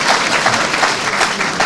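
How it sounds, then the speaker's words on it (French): An audience of the Congolese diaspora in Benelux applauds loudly at a town-hall meeting with the Congolese president. The dense, close clapping of many hands fills the whole moment, steady and unbroken. "Il faut applaudir, non?"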